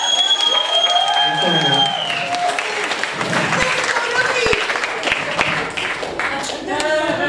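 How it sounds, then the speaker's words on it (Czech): Audience applause and cheering at a travesty drag show in a Mělník pub, with clapping rising under a host's amplified voice; people talk over the crowd throughout. "Je dobrý, zatleskejte."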